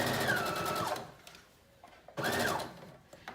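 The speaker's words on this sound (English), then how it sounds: "now we're going to sew that in a 5/8 inch seam allowance" A sewing machine runs a 5/8 inch seam along the back center seam of a wrap dress, with two close, steady whirring bursts separated by a short quiet pause.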